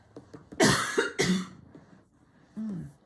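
Two harsh, loud coughs in quick succession, close up, with a brief murmur of voice before and a short vocal sound afterward.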